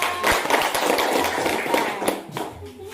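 Classroom applause after a student group's presentation, a dense patter of clapping hands that fills the whole moment, moderately loud and close, with voices mixed into the clapping.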